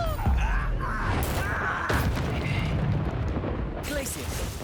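In the Hogwarts Legacy video game, a Confringo fire spell explodes with several sharp booming blasts and crackling bursts among game combat effects.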